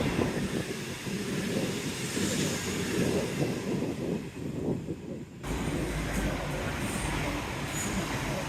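Rumbling rail noise of a passing train, steady and fairly close, with a sudden shift in tone partway through as the cars roll by.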